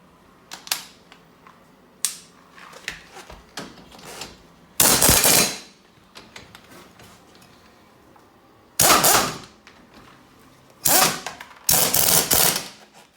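Pneumatic impact tool run from an air compressor while wheel spacers go onto a 2019 Can-Am Outlander 850 Max XT ATV, heard as loud bursts of rattling hammering separated by quieter clicks and handling noises, with no talking.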